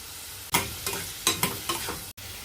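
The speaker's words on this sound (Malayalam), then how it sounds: "ഈ കാരറ്റ് കൂടി ഒന്ന് വഴന്ന് വരട്ടെ." Carrots sauté in a pan for a green peas curry made with fresh coconut milk, several quick stirring strokes each bringing a short burst of sizzle over a soft frying hiss.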